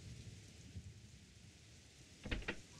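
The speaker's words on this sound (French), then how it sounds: "La pluie ne s'arrête pas. C'est une méchante pluie." Steady rain patters through a scene of the Suikoden video game, soft and continuous, with a couple of brighter splashy bursts near the end.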